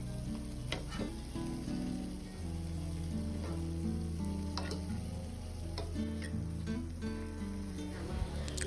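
Food for an iftar meal, probably groundnut-based, fries in a pan with a steady close sizzle, broken by occasional crackles and soft scraping as pieces are turned.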